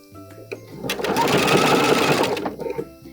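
A sewing machine runs a short burst of back stitching on a bralette seam, a dense rapid mechanical whir rising after a click and stopping abruptly, heard close.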